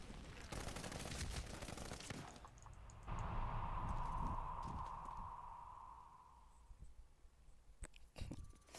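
A suppressed AA-12 shotgun in the video game Medal of Honor Warfighter fires a rapid flurry of close, muffled blasts, then a steady ringing tone swells and fades before a few final sharp shots.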